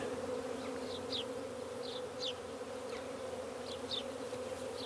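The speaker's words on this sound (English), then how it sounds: "we'll make sure the queen goes into your skep and all the other bees will follow." Honeybee swarm of about ten thousand buzzing steadily around a straw skep in a wartime farm shelter, a continuous close drone with brief individual bees zipping past now and then.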